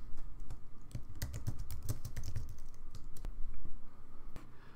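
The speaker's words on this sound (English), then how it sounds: "type your response." Rapid keystrokes on a computer keyboard as a reply is typed, an irregular run of close, crisp clicks with brief pauses and no talk.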